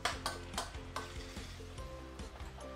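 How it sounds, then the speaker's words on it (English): Spice paste sautés in a pan for a seafood tamarind stew, a steady quiet sizzle broken by several rhythmic scraping stirs of a utensil, close and alone without talk. "So we're going to saute all this."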